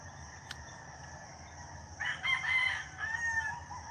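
Roosters crow in the morning, a drawn-out cock-a-doodle-doo rising at mid distance over quiet outdoor background with a faint earlier click.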